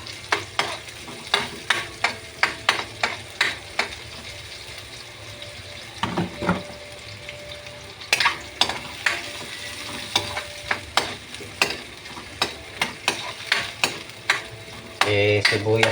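Sautéing white onions with browned garlic in a pan: quick, regular stirring scrapes of a utensil against the pan over a soft background sizzle, with a louder crackling burst near the end, no voices.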